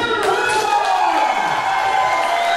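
A crowd at an MWA wrestling show in Lübeck claps and cheers steadily in an indoor hall, a dense sustained roar of applause heard alone.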